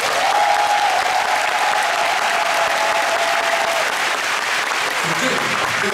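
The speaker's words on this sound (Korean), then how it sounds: "이 모든 분들께 다시 한번 큰 박수 부탁드립니다" A concert audience at an encore show in Seoul applauds in a dense, sustained wave of clapping that fills the hall. A voice speaks faintly beneath it for a few seconds.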